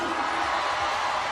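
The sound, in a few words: homecoming crowd cheering for the Morgan State Bears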